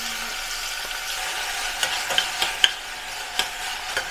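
Finely chopped onions with curry leaves frying in oil in a pan for a roadside-style salna, a soft steady sizzle with a few faint stirring scrapes and clicks, no talking.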